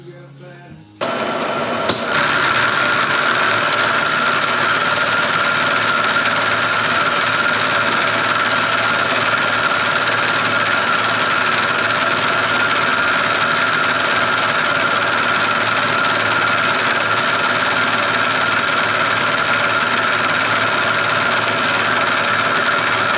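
Metal lathe making slow, light cuts on a GoPro mount body part: a steady, loud, even machining drone that kicks in after a second and holds unbroken throughout, with no talk.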